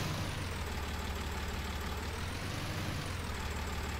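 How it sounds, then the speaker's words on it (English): Tractor engine in the farming game Farming Simulator 19, a steady low rumbling drone held at an even level throughout, with no talking. "I might be able to push it with the tractor."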